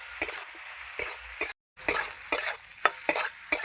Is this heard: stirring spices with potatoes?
yes